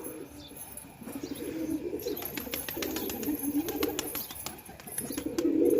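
Pigeons in a loft, cooing softly in low repeated phrases amid a chorus of faint chirps, with occasional bursts of wing flapping and rustling, close and moderately loud.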